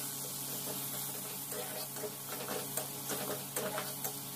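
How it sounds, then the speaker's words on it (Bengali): Tomato frying with ginger paste in a pan, a faint steady sizzle with occasional scraping stirs against the pan, heard close and alone. "ভালো করে ভেজে নেব।"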